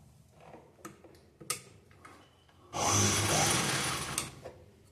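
Sewing machine stitching a blouse without lining: soft ticks and clicks, then a steady close-up mechanical whir running about a second and a half before stopping.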